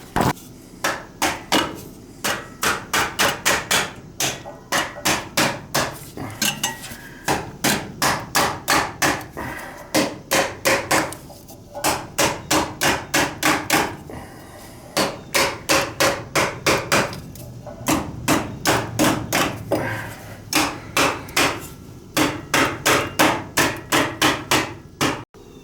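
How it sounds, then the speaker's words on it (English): Repeated sharp hammer blows ring out in quick bursts on a metal pipe fitting during a gas water heater installation, pausing briefly between rapid strings of strikes. "give it a little persuasion with a hammer"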